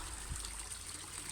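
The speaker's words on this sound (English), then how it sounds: "Pond pump is back on." A garden pond pump runs with water trickling and splashing steadily, a soft continuous flow heard close and fairly quiet.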